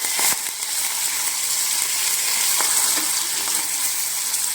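Curry leaves sizzling and crackling steadily in hot oil while tempering for Maharashtrian dill leaves (shepu) sabzi with green chillies, a dense continuous fry with a sharp pop near the start and no talk.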